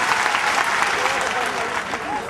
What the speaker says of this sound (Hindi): ताली बजा के इनको पूरा दे दीजिए कि खुश रहे हैं।